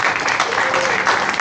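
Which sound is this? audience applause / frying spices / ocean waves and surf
audience applause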